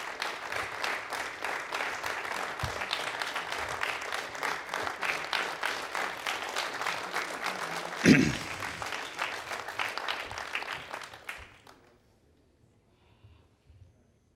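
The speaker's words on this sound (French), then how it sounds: "toute l'équipe de LV avec les t-shirts et les chemises bleues sont en train d'applaudir les clients" Launch team in blue t-shirts and shirts applauding clients in a rocket launch control room after the second Vega flight, a steady crowd clapping with some voices, one sharp thump midway, then fading to near silence.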